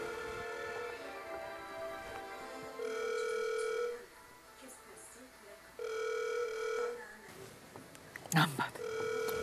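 A telephone rings repeatedly while a call is placed, with steady electronic ring tones in regular bursts, close and clear, broken by a brief clatter near the end.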